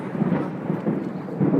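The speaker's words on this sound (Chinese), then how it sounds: "打雷了！" Rolling thunder during a rainy thunderstorm on an outdoor walk with dogs, a loud, deep rumble that swells and recedes over about a second and a half, with no talk over it.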